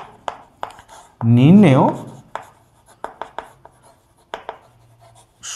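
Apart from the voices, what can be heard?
writing the answer by hand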